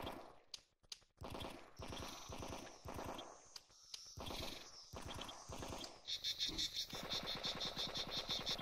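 Cicadas in the video game Frogmonster, a loud rhythmic pulsing buzz in repeated bursts that settles into a fast steady chirring trill toward the end.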